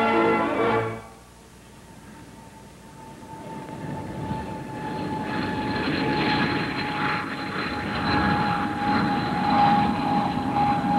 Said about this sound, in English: Beaumont is flying the first British turbojet bomber, the English Electric Canberra.